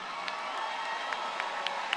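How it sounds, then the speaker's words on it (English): Applause and cheering from a large crowd for the graduating class at a university commencement ceremony, a dense, steady wash of clapping with scattered louder claps and distant whoops. "Let's give them a round of applause"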